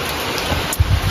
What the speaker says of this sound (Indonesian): Hujan tidak kunjung reda